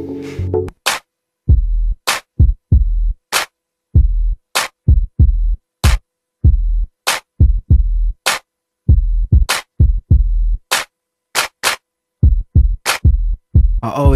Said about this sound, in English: We need to add some drums.